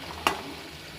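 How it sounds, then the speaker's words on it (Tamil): Onions frying in a pan for a potato and brinjal poriyal, a steady low sizzle with one sharp scrape of a spoon against the pan near the start, heard alone without talk. "நல்லா ஃப்ரை ஆகட்டும், நல்லா வணங்கட்டும் ஒரு 2 மினிட்ஸ்க்கு."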